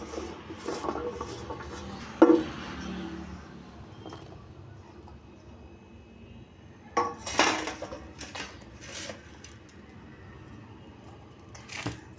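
Ragi flour dough being mixed by hand in a bowl with chopped onion, green chilies, coriander leaves and curry leaves: quiet rubbing and squishing punctuated by scattered clinks and knocks against the bowl, with a louder burst of clattering partway through.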